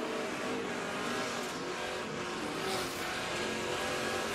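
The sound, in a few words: NASCAR trucks racing at Eldora Speedway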